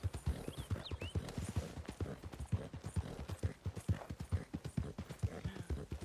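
Horse hooves clip-clopping at a steady walking pace in Red Dead Redemption II, close and distinct, a regular rhythm of hoof strikes with a faint breathy snort, no talking over it.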